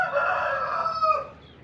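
A large rooster crows once in an aviary, a drawn-out cock-a-doodle-doo that is loud and fairly close, fading at the end.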